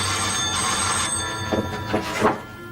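A telephone bell rings steadily and loudly up close in a Hindi television drama, with continuous electric trilling and faint voices or movement near the end.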